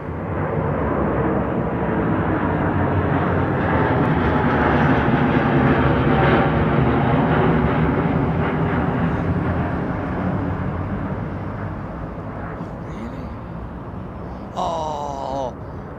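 A Ryanair Boeing 737 roars steadily at Heathrow airport, a loud, broad jet rumble that slowly fades as the aircraft moves away, with a brief vocal sound near the end.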